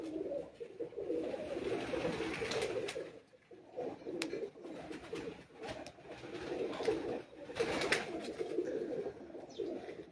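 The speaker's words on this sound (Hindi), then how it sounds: "ये देखें जी कबूतर।" Racing pigeons cooing on a rooftop, soft repeated low coos in uneven bursts at moderate distance, with occasional faint chirps and clicks in the background.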